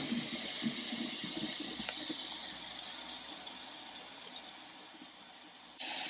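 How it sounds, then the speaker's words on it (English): Water runs and gurgles steadily down a kitchen sink drain with a garbage disposal, a close, continuous rushing that slowly eases before a sudden brighter hiss at the end. "Now we'll just clean up, run our water."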